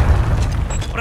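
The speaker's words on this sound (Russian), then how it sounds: "Кидаю оглушающую!" A stun grenade bursts in Call of Duty Warzone 3, a close, heavy low boom that opens loudly and then decays under faint game noise.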